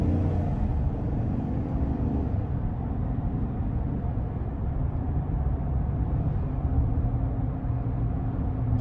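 A 2022 Chevrolet Silverado 1500 LTZ pickup accelerating out of a corner, heard from inside the cab as a loud, steady low engine drone and road rumble that holds evenly throughout, with no one speaking.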